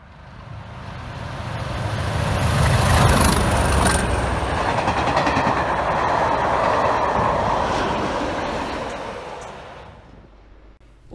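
A locomotive-hauled train rumbles steadily past at close range through Maidenhead station, a loud, sustained roar with rhythmic clattering of wheels over the rails, fading away at the end.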